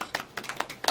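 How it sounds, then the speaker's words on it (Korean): A handful of quick hand claps from a small audience at the end of a book-study presentation, close and uneven, lasting under a second. "박수."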